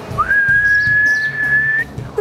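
A single human whistle holds one steady, clear tone for almost two seconds after a quick upward slide, imitating a female magpie-robin's call over faint background noise.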